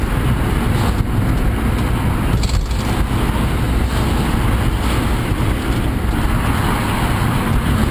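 A car engine revs fully with a Varex muffler in its closed position, a loud, steady, low roar that holds for several seconds outdoors with no voices.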